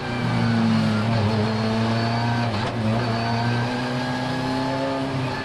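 Super GT race cars accelerating away at Spa-Francorchamps after the safety car pulls off, a dense, loud, continuous roar of several engines, with a commentator talking over it.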